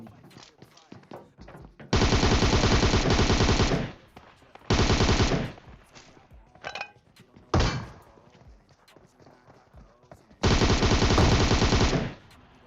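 Automatic gunfire rattles in long, loud bursts during a PUBG Mobile match, with three sustained volleys separated by single thuds and short quieter gaps, and occasional faint talk between them.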